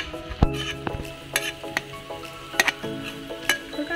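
Garlic sizzling in a pan of oil for a Nepali dish, stirred with a utensil that clinks and scrapes against the metal in several sharp knocks over a steady background fry.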